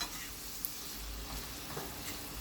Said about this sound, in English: And then I'm just going to stir it.